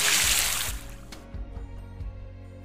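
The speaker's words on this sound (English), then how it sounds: "He pulled off his sneakers and t-shirt and dived into the clear sparkling water." Water splashes as someone dives into a clear pool, a bright burst of spray followed by gentle sloshing and dribbling as the surface settles, fairly close and fading quickly.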